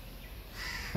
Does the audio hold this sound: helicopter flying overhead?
no